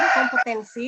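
A rooster crows once nearby in a short, strained burst that breaks off and resumes, cutting across someone speaking indoors.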